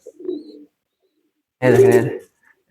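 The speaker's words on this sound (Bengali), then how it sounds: "মারামারি করতেছে আসলে কবুতরগুলি" Red-and-white desi pigeons in a loft, a short soft coo followed after a pause by a louder, throaty cooing burst as the birds scuffle and fight nearby.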